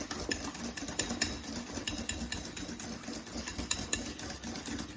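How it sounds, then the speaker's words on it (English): Carrot cake batter whisked in a bowl, a rapid rhythmic clatter and scrape of the whisk against the sides, steady and close throughout with no talk. "Okay, that's all nicely whisked together."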